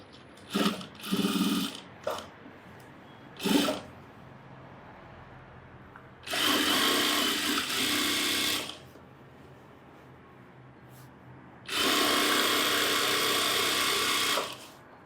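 A sewing machine stitches a chudithar in three bursts. The first is short and stop-start, followed by two longer steady runs with quiet pauses between them.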